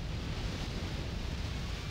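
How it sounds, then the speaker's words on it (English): Steady roaring rush of a giant waterfall in the video game Conker's Bad Fur Day, a dense, even wash of falling water with no breaks and no talking. "how did this drunken squirrel get here when there's this giant waterfall"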